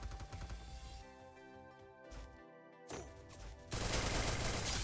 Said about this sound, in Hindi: अब भाई यहाँ पे एक और जना मुझे फायरिंग कर रहा था